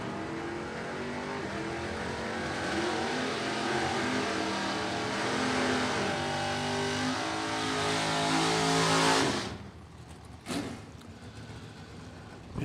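A Nova and a Mustang door-car drag racing machines launch and roar off the line together at a strip, a loud sustained engine wail rising in pitch for several seconds before cutting away into quieter distant noise.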